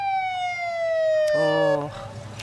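A police car siren wails loudly and close by at the Blossomtime Parade. Its pitch slides steadily downward in one long sweep before it cuts off, leaving a quieter street hum.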